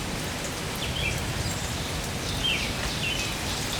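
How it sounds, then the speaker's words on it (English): Heavy rain pours steadily onto a flooded campsite, a dense, even hiss of drops on surfaces with faint bird calls far off. "the rain's pouring down there"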